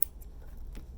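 Scissors trim the extra threads off a sewn fabric mask, making a couple of quick, close snips in near silence.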